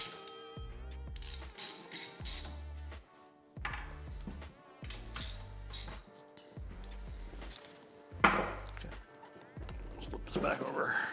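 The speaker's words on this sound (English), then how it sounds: "we'll grab the torque wrench and we'll torque everything down" A ratcheting torque wrench tightens engine bolts during a Honda CB350 engine rebuild: short, close bursts of rapid clicking separated by pauses, with some metallic handling sounds.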